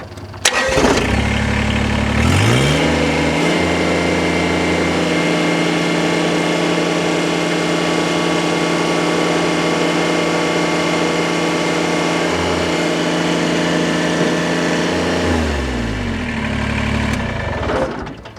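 A Kubota BX sub-compact tractor's engine runs steadily and loudly while lifting a 750-pound weight, its pitch rising as it revs up after a couple of seconds and dropping back near the end.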